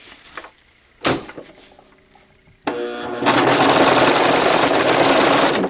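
A sewing machine stitches a pocket diaper, starting with short bursts and then settling into a loud, steady, fast whir that runs to the end, with small handling clicks before it.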